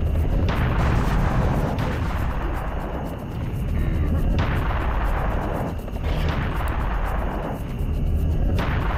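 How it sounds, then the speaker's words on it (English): A cannon fires again and again in the Serious Sam: The First Encounter video game, each blast a loud, booming roar that runs on and overlaps with the next, with shots spaced about every two seconds. "Just spam the cannon."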